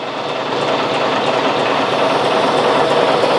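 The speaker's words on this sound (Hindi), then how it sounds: "यह पुराने समय का इंजन" Old diesel locomotive engine from the British era idles in a steady, loud, continuous rumble with a broad mechanical drone throughout, no talk.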